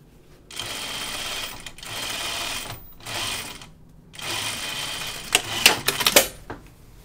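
A home sewing machine stitches the cuff of a button-up shirt sleeve in several bursts of rapid mechanical whirring separated by short pauses. Near the end, sharper clicks and clacks are heard, with no talking.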